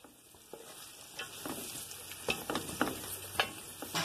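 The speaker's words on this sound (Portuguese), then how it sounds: "E eu vou colocar aqui 2 colheres de manteiga" A soft, steady sizzle of food frying in butter or margarine in a pan for arroz carreteiro, close but quiet, with a few light stirring scrapes and small crackles scattered through.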